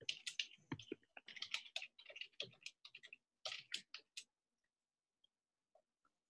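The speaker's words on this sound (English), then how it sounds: "I'm typing in my YouTube channel" Fingers typing on a computer keyboard in a quiet room: rapid, close clicking keystrokes in bursts for about four seconds, then a few isolated taps.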